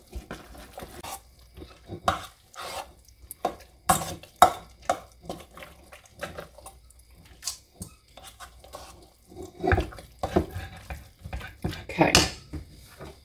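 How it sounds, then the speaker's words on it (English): Chicken casserole mixture stirred in a bowl, giving intermittent scraping and clinking strokes of a spoon against the dish, fairly quiet and close, with brief louder knocks in irregular rhythm and no talking. "I'm going to stir that up really"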